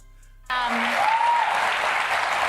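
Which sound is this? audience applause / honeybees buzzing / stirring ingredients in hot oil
audience applause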